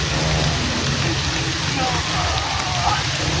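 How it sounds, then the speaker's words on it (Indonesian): Steady, dense rainfall with a constant close hiss and no breaks, heard alone throughout. "Hujan ini, Bang."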